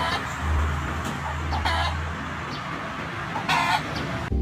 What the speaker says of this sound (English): Look at the like perfectly timed rhythmic beat that this chicken is making.